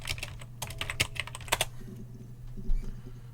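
Keyboard typing of search terms in the video game Her Story: a quick burst of clicky keystrokes, then a pause and a few more taps, close and clear over a low steady hum, with no talking.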